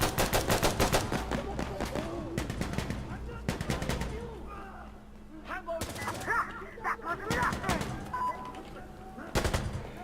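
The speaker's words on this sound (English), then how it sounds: "Someone with the MG3." MG3 machine gun firing in the video game Insurgency: Sandstorm, heard as several sharp bursts of rapid automatic fire with pauses between, fairly close, while people talk throughout.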